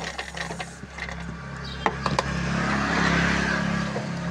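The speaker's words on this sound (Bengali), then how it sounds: "এরপর এটাকে সেলাই করে নেব" A sewing machine stitches fabric for a hanging decoration, a low steady motor hum with clicking mechanism taps that swells into a continuous whir, close and alone.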